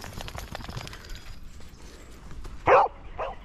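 A single loud dog bark cuts through quiet background on a small-dog walk in Edinburgh, followed by a softer second yelp a moment later.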